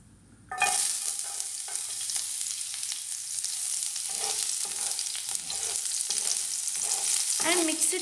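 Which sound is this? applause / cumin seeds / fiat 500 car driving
cumin seeds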